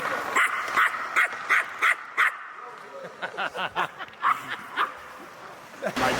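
A dog barks in a quick series of sharp, evenly spaced yaps, fairly close, continuing for several seconds with a short pause partway through.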